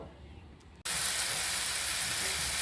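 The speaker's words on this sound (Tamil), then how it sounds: "இப்போ நம்ம வந்து இந்த கேப்சிகம், பச்சை மிளகாய், வெங்காயம் இதெல்லாம் போட்டு வதக்கிட்டுருக்கோம்." Capsicum, green chilli and onion drop into hot oil in a pan and immediately break into a loud, steady sizzle that continues close up after a quiet moment of kitchen noise.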